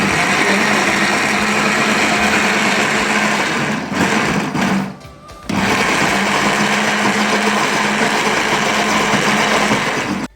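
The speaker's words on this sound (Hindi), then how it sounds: "तमाम दालें जो है वो मैंने ग्राइंडर से इस तरीके से ग्राइंड कर ली है।" An electric kitchen grinder whirs at high speed through lentils, a loud steady buzzing drone that drops out briefly for about a second near the middle, then resumes just as strongly.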